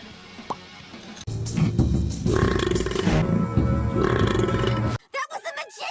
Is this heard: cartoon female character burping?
yes